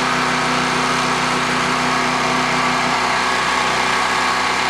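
A Predator 3200/4000 watt portable generator running under load, a steady, loud engine drone without a break, holding an even pitch throughout.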